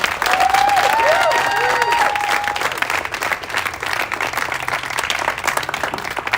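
Applause from a press conference crowd for the SB805 theater-community coalition, steady clapping with a few faint whistles or cheers riding over it early on.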